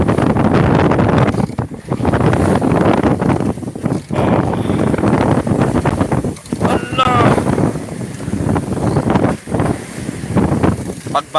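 A small boat heads out on a rough sea, with strong wind buffeting the microphone and a constant loud rush of water and motion, broken by brief dips.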